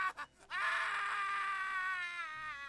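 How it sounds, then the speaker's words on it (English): A long, anguished scream from a game character in Divinity: Original Sin 2, rising from a brief choked start into a sustained, wavering howl that holds loud and close for about two seconds before fading. "what was once laughter is now an anguished scream"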